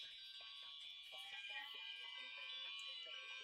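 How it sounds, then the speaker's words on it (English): A chorus of many fire alarms sounding together as a novelty New Year's tune, shrill overlapping electronic beeps and tones forming a continuous dense wash, faint and steady throughout. "New Year's sound off of fire alarms."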